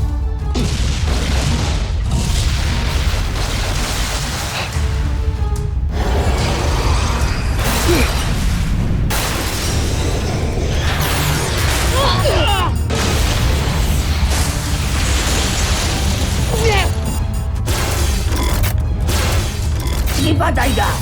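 The Voltes V bazooka weapon firing in an anime battle: a dense, continuous run of booming blasts and mechanical clanks and creaks, loud and layered with battle effects and music throughout.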